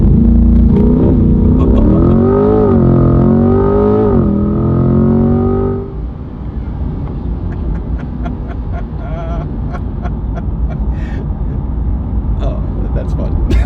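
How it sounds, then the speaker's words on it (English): Chevrolet Corvette C8 doing a launch-control start on a rough street: a loud engine rev held with rising harmonics, then a hard release into a roaring, rushing acceleration with wind and road noise, with people talking over it. "Push your foot on the brake all the way as hard as you can, Yep. and then mash the gas."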